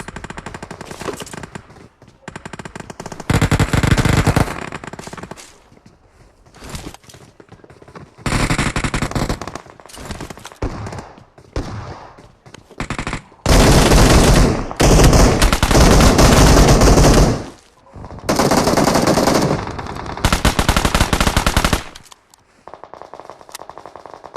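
Video game gunfire, including machine-gun fire in a train game mode, loud rapid automatic bursts of several seconds each, separated by short gaps, with no talking.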